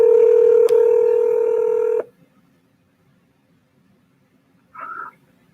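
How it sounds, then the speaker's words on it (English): Telephone keypad dialing tones: a single steady dual tone held loud for about two seconds, then silence, followed by a short second tone burst. "So hard not to say the number out loud as I'm dialing it."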